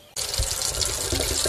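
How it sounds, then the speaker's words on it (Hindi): A kitchen water tap starts abruptly and runs steadily into a sink, making a loud, close, continuous gushing splash that lasts to the end. "सिंक में पानी का नल चल रहा है"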